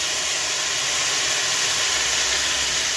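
Ground spice paste dropped into hot oil tempered with asafoetida sets off a loud, constant broadband sizzle that holds steady and close without a break.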